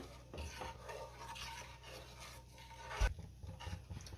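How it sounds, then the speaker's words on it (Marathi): A spoon stirring coconut kheer with added sugar in a pan, soft scraping and swishing strokes in a quiet kitchen, with one sharper knock against the pan near the end. "पुन्हा सगळं व्यवस्थित मिक्स करून घेऊया।"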